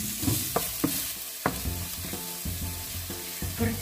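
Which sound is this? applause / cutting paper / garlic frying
garlic frying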